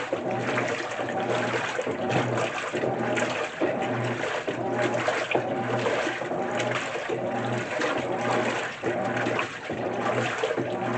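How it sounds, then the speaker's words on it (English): GE 2024 top-loading washing machine agitating on a normal cycle: a steady churning slosh of water with rhythmic swishing strokes, continuous and fairly loud throughout. "It's going to agitate so now it's going to agitate for a few more minutes"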